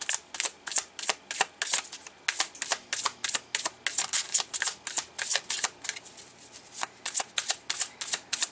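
A deck of tarot cards is shuffled over and over, giving quick, crisp riffling bursts in a steady rhythm, close and clear, with no talk.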